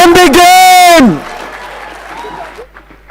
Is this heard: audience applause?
yes